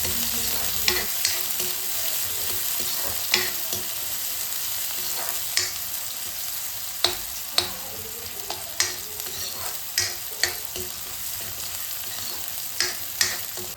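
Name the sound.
onion and green chillies frying in mustard seed oil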